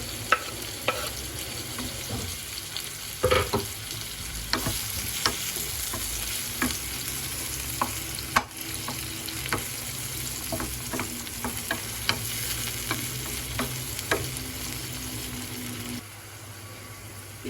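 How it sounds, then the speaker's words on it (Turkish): Peppers and tomatoes sauté in a frying pan, a continuous close sizzle broken by repeated scrapes and clacks of a utensil stirring, with no talk over it. "Biberler domatesle de biraz kavruldu."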